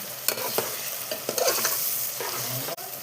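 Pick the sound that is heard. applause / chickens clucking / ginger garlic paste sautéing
ginger garlic paste sautéing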